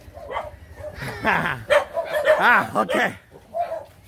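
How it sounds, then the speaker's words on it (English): Several dogs bark and yip in quick overlapping bursts on a street in Davao, Philippines, fairly close, with a person speaking briefly between the barks. "Look at all the dogs."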